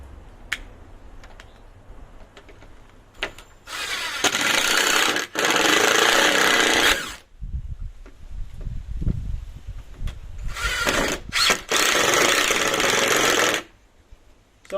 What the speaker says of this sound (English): grab the drill, do our two holes, and pull it out just a little bit